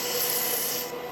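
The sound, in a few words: sanding wood with sandpaper on a sanding cone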